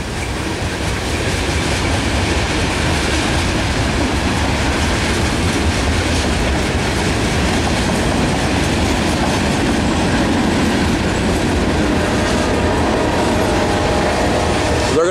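A heavy Norfolk Southern manifest freight train with AC44 and SD70ACu locomotives passes close by near Shawsville, Virginia, a loud, unbroken roar of wheels and cars on the rails with faint clatter and squeal throughout.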